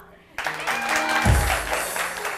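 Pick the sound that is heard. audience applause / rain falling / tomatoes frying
audience applause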